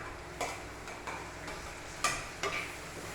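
Shallots, green chili, ginger and tomato sautéing in a clay pot, a soft steady sizzle broken by a few sharp stirring clicks and taps.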